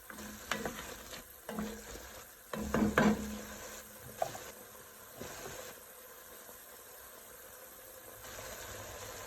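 Onions cooking in a pot for a red wine pot roast, sizzling steadily while a utensil scrapes and stirs in a few louder bursts early on, then settling into a quieter, even fry.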